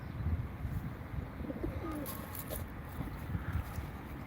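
A young smoky-grey, crested Turkish game pigeon coos softly in a few low, rolling phrases amid quiet background noise, with faint chirps and a voice murmuring nearby.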